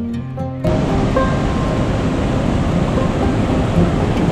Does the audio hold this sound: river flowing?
yes